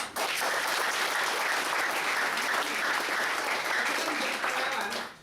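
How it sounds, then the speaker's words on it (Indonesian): Audience applause for employees at a motivational gathering, a dense, steady wash of many hands clapping at close range that carries on for several seconds before tapering off at the end. "Kasih tepuk tangan untuk mereka."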